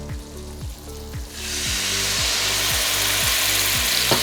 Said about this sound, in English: you add in even more butter. Now we're putting in the cherry liquor.